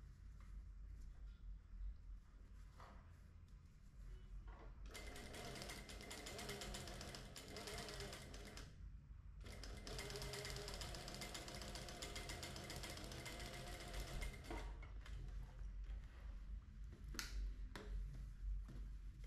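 A sewing machine stitches a front fly zipper in steady mechanical bursts with a short pause midway, moderately close and without speech.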